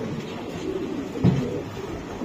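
Racing pigeons coo softly at a market stall, with one low, brief coo standing out against a steady murmur of background noise.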